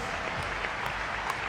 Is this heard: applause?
yes